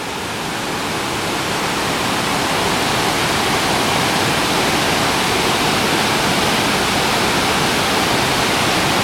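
Iguazu Falls in Argentina thunders as a loud, constant roar of falling water heard from a viewpoint on the upper trail, steady and unbroken with no voices.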